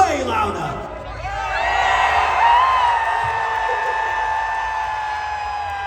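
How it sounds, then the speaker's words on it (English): Festival crowd at a vegan camp-out cheering and whooping together, a loud sustained roar rising and holding for several seconds, with shouts layered over the broad crowd noise. "Was that cheer loud enough, though?"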